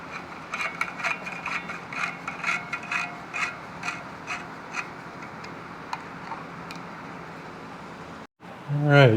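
Screws being tightened on a Yamaha CT-3 motorcycle clutch, a close run of small rapid ratcheting ticks and clicks in bursts, ending with a brief soft rustle.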